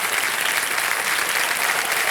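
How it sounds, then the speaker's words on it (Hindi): Studio audience on the Kaun Banega Crorepati 14 quiz show applauds loudly and steadily, a dense, continuous wash of clapping with no talk over it. "तालियां बज जाए इनके लिए"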